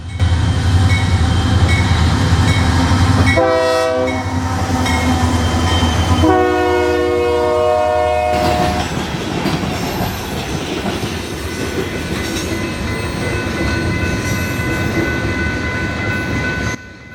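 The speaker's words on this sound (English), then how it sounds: "we get the train going into the sunset as it takes a right going to the Macao sub" A Union Pacific train rumbles loudly past at close range on the Mykawa Subdivision in Texas, steady wheel and engine noise throughout, broken by a couple of long horn blasts.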